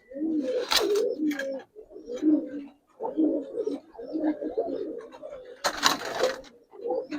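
Giribaz pigeons coo in repeated low, throaty bursts close by, broken by sharp wing-flap clatters as they are released.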